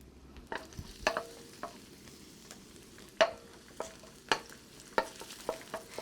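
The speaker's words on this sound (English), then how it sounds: "when you're sauteing garlic, you want to keep the heat not too high" Chopped, pounded garlic stir-fries in a pan over moderate heat, a quiet low sizzle punctuated by sharp spatula clacks and scrapes against the pan at irregular intervals, heard alone.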